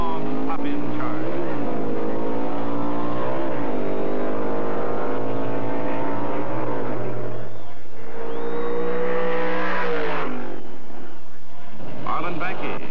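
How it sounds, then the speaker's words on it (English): A Hemi Roadrunner storms past a Mustang at a 1970 stock eliminator drag race, its engine roaring and surging through gear changes, with an announcer talking over the steady loud din. "Sox proceeds to win top stock eliminator honors in his fleet Hemi Roadrunner, storming by this Mustang with a strong pop-in charge"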